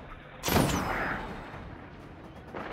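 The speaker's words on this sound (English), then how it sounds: "Chill out with the shooting." A loud, close weapon blast rings out in Destiny, a single booming shot with a long, fading rumbling tail, followed by a quieter second burst near the end.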